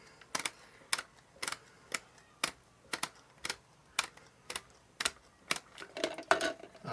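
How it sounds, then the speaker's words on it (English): A new adjustable toilet fill valve being twisted to set its height gives a run of sharp plastic clicks, about two per second, close and fairly faint, with no talk. "So you grab your new valve here and you just twist this out."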